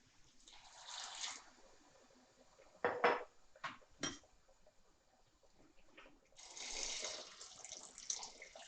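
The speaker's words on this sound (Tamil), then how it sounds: "நான் வந்து ஹாட் வாட்டர் தான் ஊற்ற போகிறேன்" Hot water pours into a pot of tomato biryani masala in two splashing bursts. Between them come a few clinks of metal utensils, and the whole sequence is faint and close.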